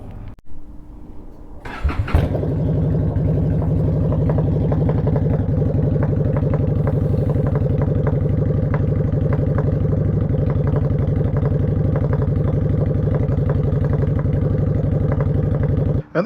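A 2015 Honda Shadow Phantom motorcycle, just fitted with new spark plugs, cranks briefly, catches and settles into a loud, steady, throbbing idle nearby that continues to the end.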